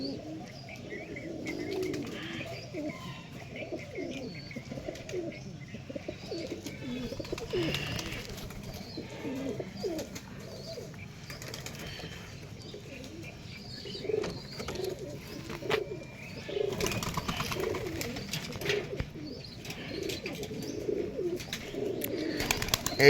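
Pigeons cooing in a loft, repeated soft low coos near and far with scattered chirps and occasional wing flutters, in hot weather.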